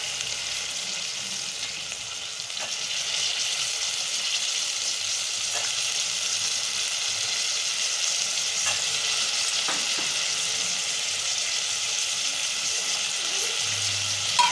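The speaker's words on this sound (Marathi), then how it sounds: "आता आपण छोले घालूया भिजलेले. छोले चांगले परतून घ्यायचे." Soaked chickpeas sauté in a pan with turmeric, giving a steady, even frying hiss throughout with a few faint stirring clicks.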